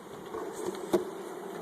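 A steady, faint insect drone of bees buzzing at a beehive sugar-syrup feeder throughout, with one brief louder burst near the middle.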